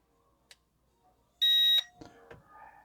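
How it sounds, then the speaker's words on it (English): A small drone's remote controller gives one short, clear electronic beep when its headless mode button is held down. The beep stands alone in a quiet room, and a few soft clicks and handling noises follow. "You're going to hear a beep."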